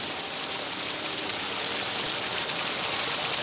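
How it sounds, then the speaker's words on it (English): Light rain falls outside in misty winter weather, a steady hiss of fine drops that fills the whole clip evenly and closely, with no voices over it. "It's damn near raining"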